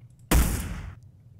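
A single sharp gunshot in the Hitman video game lands as a headshot, a loud close crack with a brief fading tail, alone with no talk.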